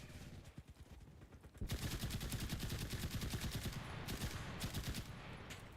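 Rapid automatic gunfire rattles loudly and continuously in the WWII shooter game Enlisted, thinning briefly before a dense, sustained burst of shots takes over and runs to the end.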